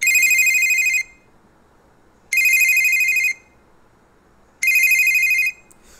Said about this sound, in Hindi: अगली आवाज़ है टेलीफोन।